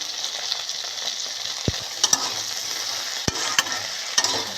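Neem leaves and eggplant fry steadily in a pan, with a continuous close sizzle and a few sharp clicks and scrapes from stirring, and no voices.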